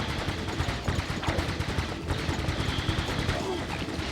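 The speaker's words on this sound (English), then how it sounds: "That's a lot of turrets." Turrets fire in the video game Ratchet & Clank in rapid, repeated bursts. The close, dense gunfire rattles on almost without a break.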